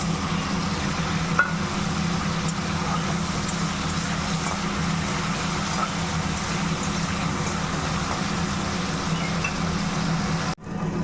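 Tomato frying in a spice masala for a Bengali katla fish curry sizzles as a steady, even hiss throughout, ending with a brief clatter.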